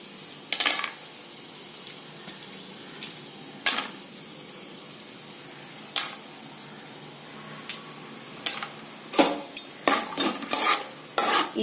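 Peanuts roasting in oil in a pan over a low flame, a soft steady sizzle with several sharp scraping stir strokes, some in quick bursts near the end, with no talking.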